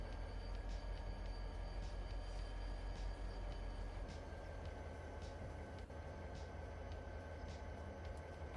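A train rolling along its track in the Farming Simulator 25 video game, a steady low rumble with faint rail hiss and occasional light clanks, continuous and fairly quiet throughout.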